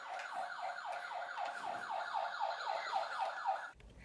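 An ambulance siren wailing in a repeating rising-and-falling pattern, moderately distant and steady, heard alone before cutting off near the end.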